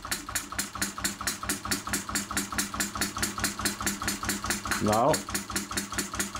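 A 12 cc true diesel model engine runs with a rapid, regular knocking beat, slightly knocking as its injection timing is adjusted under load; a brief rising whine cuts in near the end, and a voice speaks briefly.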